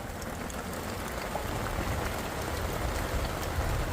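Heavy rain from a supercell storm pours steadily in a dense, unbroken hiss, close and constant, with no voices over it.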